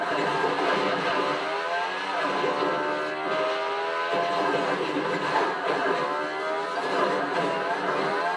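Car engine in the Fortnite video game, a sustained revving drone with shifting pitch as the vehicle drives, steady and moderately loud throughout.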